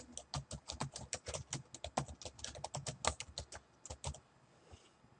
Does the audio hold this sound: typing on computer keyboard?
yes